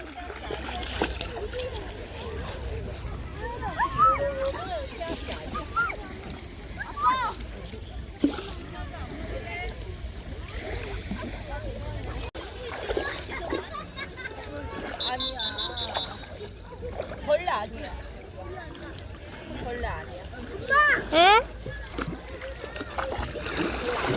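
Children swimming and splashing in outdoor water on a July family outing, with irregular splashes and sloshing, loud near bursts around 4, 8 and 21 seconds, under voices and background chatter.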